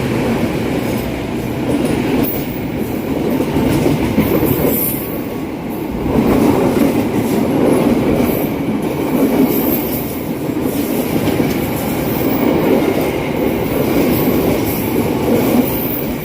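The Argo Bromo Anggrek express train, bound from Gambir to Surabaya Pasar Turi, runs straight through a station at speed, a loud, sustained roar of wheels and carriages with rhythmic clatter and faint squeals, steady throughout.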